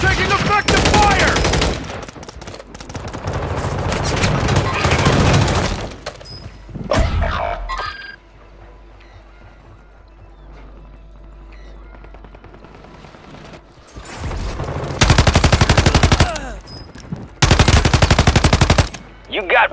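Automatic gunfire rattles in Call of Duty, with long bursts from close up that break off into a quieter stretch of ambient game sound before more heavy firing resumes, with voices faintly present.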